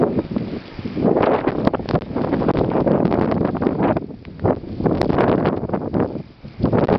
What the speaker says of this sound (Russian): Метель у нас.